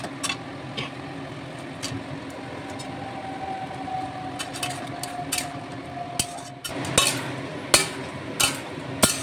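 Fried chicken pieces go into a wok of chili chicken gravy and are stirred, giving a continuous low sizzle with scattered metallic scrapes and taps of a spatula that grow louder and more frequent toward the end.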